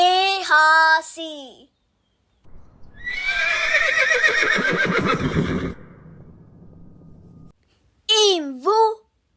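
A horse on a farm gives a loud, drawn-out whinny that breaks into snorts, with a voice speaking briefly before and after it.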